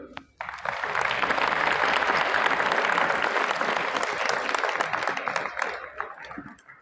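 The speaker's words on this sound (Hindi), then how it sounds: "बीच में ताली बजाओ तो ये बजा दो ना" A crowd claps steadily for several seconds, a dense wash of applause that swells quickly and tapers off toward the end.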